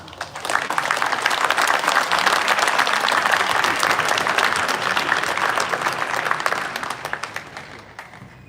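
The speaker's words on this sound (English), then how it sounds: "Let's give a round of applause for all who have put in the hard work," An audience at a leadership award ceremony breaks into sustained applause, a dense wash of clapping that starts abruptly, holds loud and steady for several seconds, then tapers off near the end.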